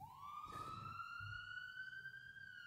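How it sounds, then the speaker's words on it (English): A siren wails steadily in the distance, a single rising tone held throughout, with a faint low voice murmuring underneath. "We'll just wait for that siren to go past."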